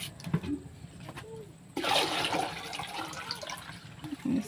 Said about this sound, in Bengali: এই পাশে গোসল করার জন্য সবার জন্য পানি দেওয়া হইতেছে